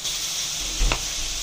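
Carabao meat sizzles steadily in a hot pan while being stirred, with one brief scrape of the utensil through the frying.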